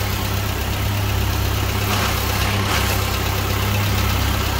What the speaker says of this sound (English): Let's start this process again with the engine idling.